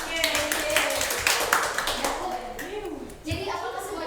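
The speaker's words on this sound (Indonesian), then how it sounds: "Terima kasih kelompok 3. Tepuk tangan." Classroom applause for a student group in a biology lesson, a steady patter of clapping hands with children's voices mixed in, fading briefly near the end before resuming.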